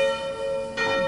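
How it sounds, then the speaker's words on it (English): A church bell tolls with a sustained, resonant hum, then a fresh strike swells in near the end, ringing clearly at moderate distance with no talking. "What is the bell? And the faithful are called."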